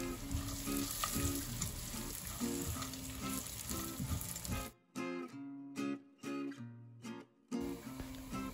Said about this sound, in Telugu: కిస్మిస్ బాగా ఫ్రై అయిన తర్వాత మిగిలిన డ్రై ఫ్రూట్స్ ఉన్నాయి కదా, వాటన్నిటిని కూడా అదే ప్యాన్లో వేసుకొని కొంచెం లైట్గా అలా ఫ్రై చేసుకోవాలి